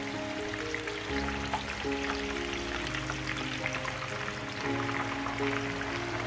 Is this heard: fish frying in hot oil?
yes